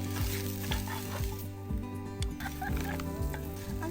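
Corned beef and potatoes sizzle steadily in a pan over a camping breakfast, with repeated scraping stirs of the spatula cutting through the close, continuous frying hiss.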